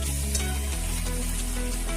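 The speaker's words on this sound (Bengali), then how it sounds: "এইবারে এই বাটা মশলাটা তেলের মধ্যে দিয়ে ভালো করে কষিয়ে নেব।" Ground spice paste frying in hot oil for a shahi paneer curry in a home kitchen, giving a dense, steady, loud close sizzle throughout with a low hum underneath and no talk.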